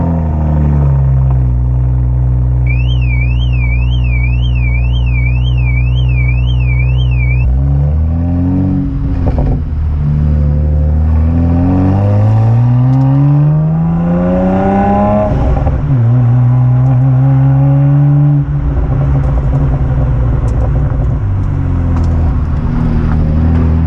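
A BMW 1M's engine revs hard and loud, holding a steady drone before climbing and falling through several sweeping rev swings, up close and with no talk over it.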